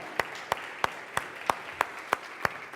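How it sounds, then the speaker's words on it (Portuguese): Church congregation clapping in unison: eight sharp, evenly spaced claps at a brisk steady beat, moderately quiet against a soft room background, with no speech. "Só quem vive o melhor de Deus, aplauda Ele"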